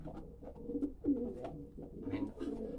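A racing pigeon coos in a series of soft, low, rolling calls, several phrases in close succession, heard nearby with no other sounds.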